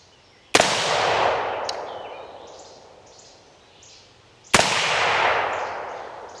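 Two sharp AR-15 rifle shots on an outdoor shooting range, several seconds apart, each loud crack trailing into a long decaying echo, with faint birdsong in the background.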